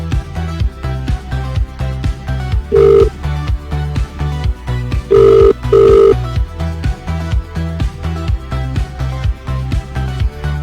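A telephone rings three times for an incoming caller on a live radio show, sounding as short electronic rings over steady, loud rhythmic background music.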